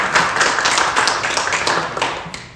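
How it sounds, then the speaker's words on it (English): A small audience at a magic lecture giving a round of applause, brisk scattered clapping that fades out over a couple of seconds. "Give this gentleman a round of applause."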